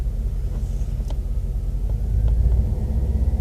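A car engine idles with a low steady rumble just after being revved to about 1,000 RPM, dropping low and bouncing slightly, heard close with no talk.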